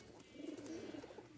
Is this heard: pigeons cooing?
yes